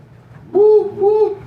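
A voice imitates a police siren with a quick rising-falling wail, two short swells close to the microphone.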